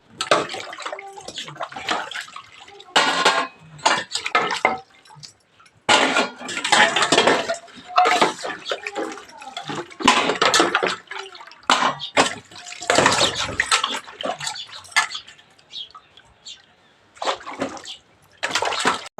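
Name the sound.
washing dishes with water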